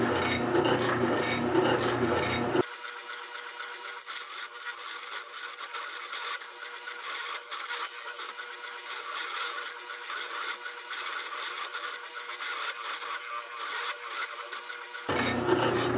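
Continuous coarse abrasive rasping of an 80-grit belt sander shaping a knife handle, loud and steady, with brief higher-pitched grinding at the start and end.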